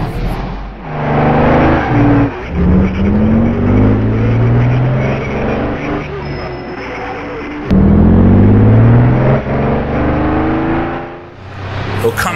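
A Jaguar D-Type race car engine in rFactor2 on the Isle of Man Mountain Course roars loud and close, pitch sweeping up through the gears, dropping on shifts and braking, then surging again, with someone talking over it at times.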